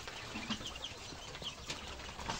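Young quail birds about 35 days old on a farm give faint, scattered chirps and light rustling at low volume, with no talking.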